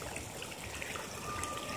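Flood water after heavy rain pours steadily in from a neighbouring yard, a close, continuous rushing trickle with no voices.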